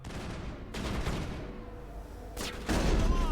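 Gunfire in the sci-fi shooter Mass Effect: dense bursts of weapon fire in two heavy volleys with rumbling blasts between, loud and close, building to a sustained barrage at the end.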